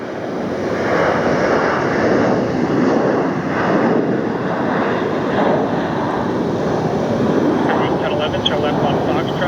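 Jet airliner rotating on takeoff at Philadelphia International Airport, a steady loud broadband engine roar sustained throughout without letup, heard from a distance with wind buffeting the microphone.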